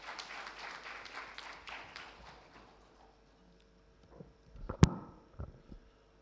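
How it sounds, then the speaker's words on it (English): Brief round of audience applause at a national startup conclave, fairly distant and fading out after about three seconds, followed by near silence with a few scattered knocks and a sharp click. "Let's welcome him with a huge round of applause."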